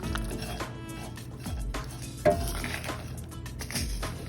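Raw plantain fry ingredients mixed in a pan: a spoon scrapes and knocks against the pan in irregular strokes, with a few sharper clinks over a low, steady sizzle.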